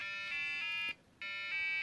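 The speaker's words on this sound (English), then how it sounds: "the alarm will go off just as it's doing right now" An embedded-system alarm clock alarm going off: a loud, steady electronic tone in repeated bursts, each running nearly a second with a short silent gap between, no voices.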